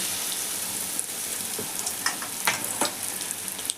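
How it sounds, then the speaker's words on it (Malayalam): Chili bajji, green chillies in batter, frying in hot oil in a small pan, a steady close crackling sizzle with sharper pops and spatters throughout. "നടു കട്ട് ചെയ്തിട്ടാണ് നമ്മൾ പൊരിച്ചെടുക്കണത്."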